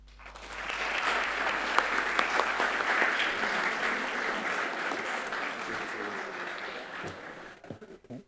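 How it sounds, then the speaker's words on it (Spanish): An audience at a book or journal launch event claps warmly for a university vice-rector, dense sustained applause that swells in and holds for several seconds before tapering off near the end. "quiero pedirles un aplauso para Claudio Pastene Villarreal"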